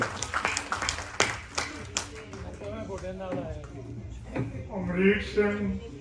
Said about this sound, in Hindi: जोरदार तालियां सर एक बार कीजिए